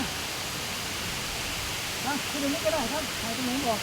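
A cave waterfall at Tham Soda in Roi Et, Thailand, gives a steady broadband rushing hiss throughout, with a voice talking over it in the second half.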